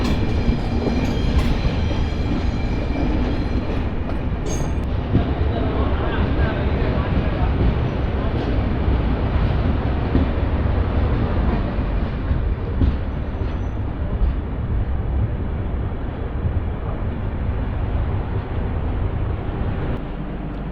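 Tirumala Express train number 18522 pulling out of Venkatagiri station, a loud, continuous rumble of wheels and rolling carriages with faint clatter, steady throughout, and voices talking underneath.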